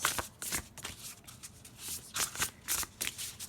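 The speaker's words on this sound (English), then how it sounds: "Let's shuffle and see what card" Tarot cards being riffle shuffled in repeated quick bursts, crisp riffling flutters separated by short pauses, close up with no voices.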